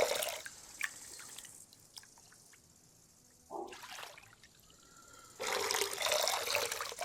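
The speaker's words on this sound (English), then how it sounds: "Dip the gold pan in the water and give it a good shake" A gold pan dipped and shaken in water in Gold Mining Simulator 2, with soft drips and trickles giving way to a sloshing, splashing swirl of water near the end, close and moderately loud.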